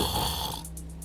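Hill giants sleeping deeply, covered in their own vomit, snore with a heavy rasping breath that fades after half a second, leaving a low steady drone underneath.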